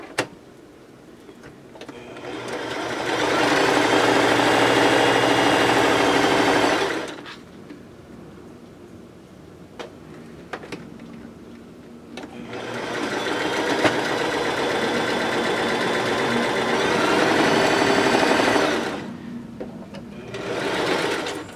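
An electric sewing machine stitches fabric pieces together in two long, even runs of fast mechanical whirring. A quiet pause separates the runs, and a short burst of stitching starts again at the end.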